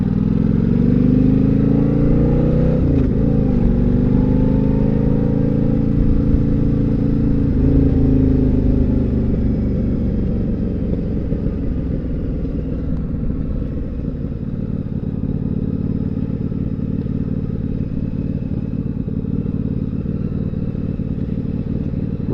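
A Yamaha V Star 1100 cruiser motorcycle on the road, its V-twin engine a loud, steady low rumble with a shift in pitch early on, then easing into a smooth cruising drone, heard alone.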